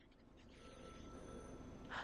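A phone rings in the video game The Last Caretaker, a faint electronic ringing tone that swells briefly near the end, heard alone over quiet background ambience.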